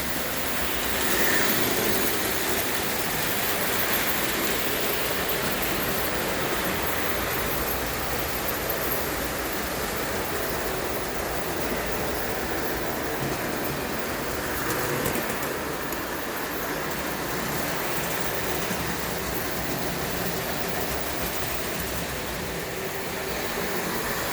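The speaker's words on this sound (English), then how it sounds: "That's got a McCoy die-cast motor in it that hasn't blown up yet, and it is really a smooth operator." McCoy die-cast model motor running in a Dayton hill climber car, a steady high-pitched buzzing whine that holds smooth and unbroken throughout, at moderate distance.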